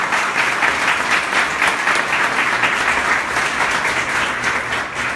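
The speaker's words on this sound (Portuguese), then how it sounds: "aplaude o Senhor com a força das suas mãos" Congregation applauding during a church service, a dense, continuous roar of many hands clapping, loud and sustained for the whole stretch with little else heard.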